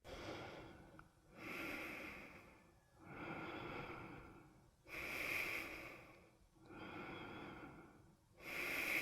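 Deep, steady breaths drawn in and let out during a wrist mobility exercise, close and clear, with about five rising-and-falling cycles in an even, unhurried rhythm.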